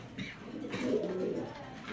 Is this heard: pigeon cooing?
yes